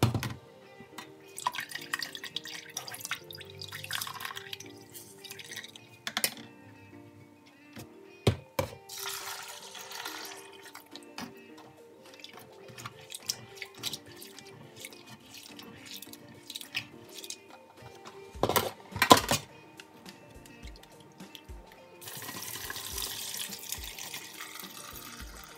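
Water pours and splashes through a sieve while dried beans are rinsed to strip their skins in a kitchen, with irregular trickles, drips and clatters, growing into a steady rush near the end.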